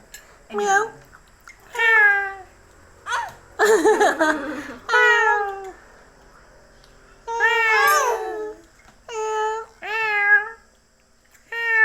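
A young voice imitates a cat with a string of rising and falling meows, singing and babbling between them, loud and close, in bursts separated by short pauses.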